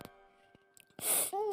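A single sharp sneeze bursts out after a quiet pause, close and loud, followed by a short voiced sound.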